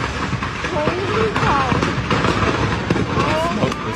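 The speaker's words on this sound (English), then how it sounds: "the resulting firework explosion was pretty spectacular" Fireworks go off in a fireworks store after a car drives into it, producing a dense, continuous barrage of crackles, pops and whistling streaks. A voice can be heard through the noise.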